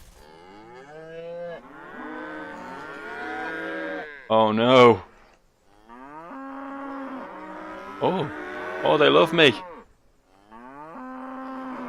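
Cartoonish cattle moos in the video game Everything, long drawn-out lowing calls repeating one after another with brief gaps, several overlapping in louder bursts, with someone briefly talking between them.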